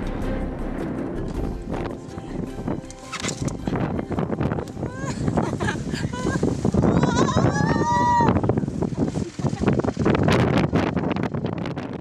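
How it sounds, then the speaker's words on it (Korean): Strong wind gusts sweep across the Lancelin sand dunes in Western Australia as a sandstorm builds, roaring in a steady, loud rush with brief voices over it. "갑자기 날이 흐려지고 바람이 불기 시작했는데 모래바람이 점점 거세져 언덕을 오르기가 힘들 정도입니다"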